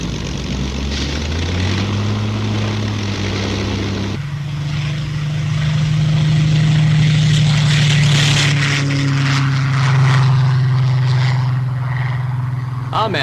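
A propeller training aircraft drones steadily overhead, its engine pitch holding and shifting across the stretch, loud and continuous, with a voice talking over it.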